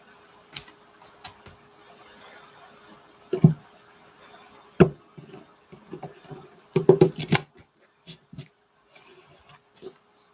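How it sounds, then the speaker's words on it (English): Bursts of riffling and shuffling of playing cards, scattered clicks and flutters with a couple of longer rapid riffles, close and fairly quiet. "I'm going to shuffle."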